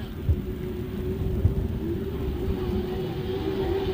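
Grasstrack racing bikes at a race meeting, a loud broad engine rumble with a steady drone and a couple of sharper surges as the machines come down the straight, dense and continuous.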